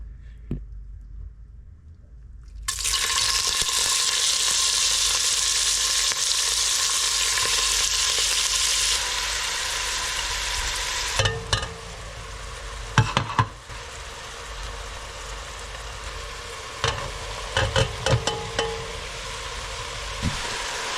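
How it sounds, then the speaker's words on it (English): Onions, garlic and snapping turtle meat hit hot olive oil in a pot, a sudden loud sizzle that settles into steady frying with intermittent clinks and stirring scrapes. "So the next thing we're going to do is put the onions, the garlic, and the turtle meat in this pot."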